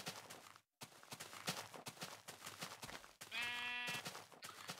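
A sheep in the Minecraft video game lets out one wavering, harmonic bleat near the end, preceded by blocky footsteps and soft clip-clop movement sounds; no one speaks.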